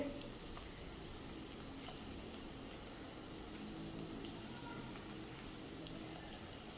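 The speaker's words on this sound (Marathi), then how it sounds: "आता दुसरी बाजू पण अशीच मी फ्राय करून घेते" Broccoli cutlets fry gently in oil in a pan over a low-to-medium flame, a faint, steady sizzle with tiny crackles that continues without a break.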